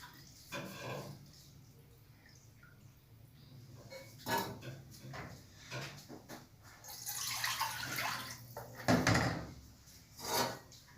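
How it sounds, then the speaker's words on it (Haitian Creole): Water splashes and runs in short bursts into a container close by, with clanks of cookware and a soft voice now and then. "Là, je mets de l'eau."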